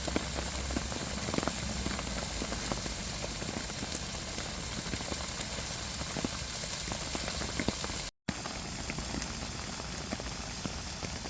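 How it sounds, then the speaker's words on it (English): Heavy rain drums steadily and densely on a tent, a constant close hiss and patter that continues throughout with a very brief dropout near the end and no talking. "as you can hear, it's raining pretty good outside."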